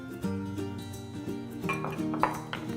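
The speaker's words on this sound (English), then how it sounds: "Stir it." A spoon clinking and scraping against a glass pitcher while stirring sugar into rosé sangria, a quick run of bright, ringing taps and swirls, close and alone.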